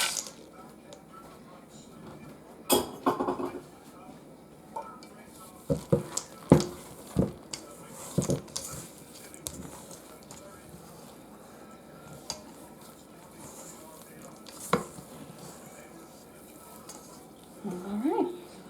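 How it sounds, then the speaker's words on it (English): Chocolate chip cookie dough being mixed by the creaming method, with quiet irregular scraping and stirring knocks of a utensil against a bowl, some sharper clinks scattered through. "that's the creaming method of mixing"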